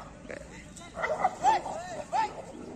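Doberman and street dog fighting, with a few short yelps and snarling barks in quick succession amid scuffling noise, while people talk in the background.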